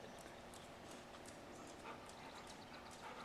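Moxie the dog coming closer, a soft, low patter with faint panting under a steady hiss of room noise, with no talking.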